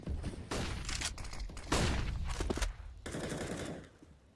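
Rapid automatic gunfire from a Counter-Strike match on the Vertigo map, dense bursts of shots in several clusters with brief pauses between, loud and close, no speech heard.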